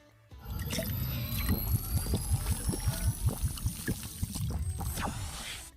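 10W40 engine oil poured into the fill hole of a side-by-side's engine during an oil change: a steady, close, fairly quiet stream broken by rhythmic glugs and gurgles, with no talking.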